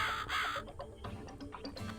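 One loud, scratchy crow caw opens the moment in the horror game Cat Lady, then gives way to a subdued, murky background hum.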